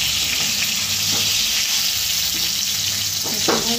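Fish fries in oil in a pan with a loud, constant close-up hiss and crackle, and a few faint stirring scrapes near the end.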